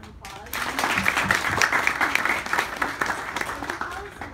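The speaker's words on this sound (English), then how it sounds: "can we give her another round of applause?" An audience breaks into applause after a spoken word poetry performance, a crowd clapping that starts abruptly, stays dense and lively, then begins to thin out toward the end.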